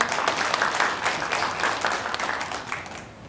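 An audience at a village project results-sharing event claps for a village chief's presentation, a dense, lively round of applause that fades out toward the end.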